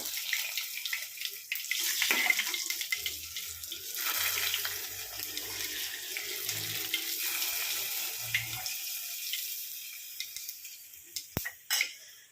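Water pouring into a pot of meat curry, a close, continuous splashing gush that gradually eases off, followed by a couple of faint clinks.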